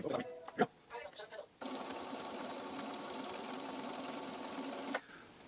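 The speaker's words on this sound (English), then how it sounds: "So theoretically, I can sew down the ditch, and I can go around the quilt." A sewing machine with a walking foot stitching in the ditch on a quilt runs in a steady, continuous hum for a few seconds after brief talk, then stops.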